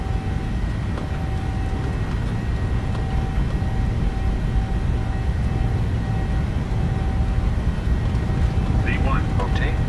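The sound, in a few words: airliner jet engines on takeoff roll, Microsoft Flight Simulator 2020 video game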